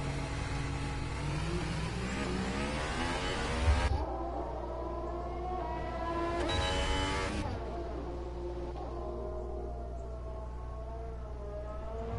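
A Toro Rosso Formula 1 car in a racing game drives out with a high engine whine that climbs through the gears in rising sweeps, loud and continuous, alone without talk.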